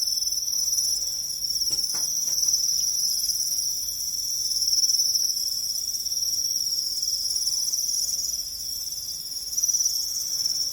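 Crickets in a breeding box give a continuous, high, close chirping trill that holds steady throughout, with no voices.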